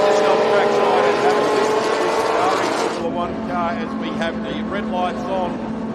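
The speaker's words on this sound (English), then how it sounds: "have a listen to this Ferrari Formula One car as we have the red lights on" Ferrari Formula One car on track at a classic race meeting at Phillip Island, waiting on red lights at the start: a loud, sustained engine drone fills the first half, then gives way to busier, lighter mechanical sound under crowd and commentary noise.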